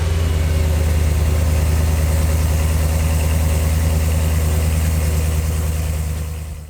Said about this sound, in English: let's actually go ahead and give you guys a quick cold start of the OEM M Performance exhaust